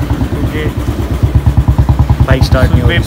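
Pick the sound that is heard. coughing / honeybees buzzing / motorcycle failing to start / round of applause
motorcycle failing to start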